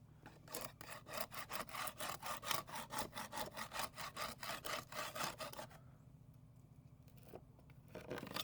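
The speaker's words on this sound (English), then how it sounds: "Some spots like that you just saw me try to scrape it." Rhythmic scraping strokes on old house paint: about twenty rapid, evenly paced rasping passes for nearly six seconds, close and loud, then a quieter stretch with a faint low hum.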